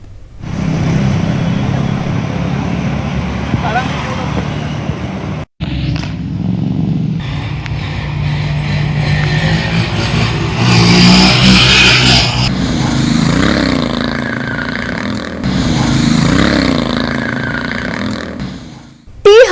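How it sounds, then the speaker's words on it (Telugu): Motorbikes rev and speed during stunt riding by young men on a road in Madhapur, Hyderabad, with engine roar rising and falling under a steady voice talking over the noise. "కొందరు యువకులు అత్యంత వేగంతో బైక్లు నడుపుతూ స్టంట్స్ చేస్తున్నారు"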